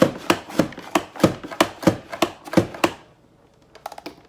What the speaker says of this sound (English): So now we take our French fry sizes and change them into diced potatoes.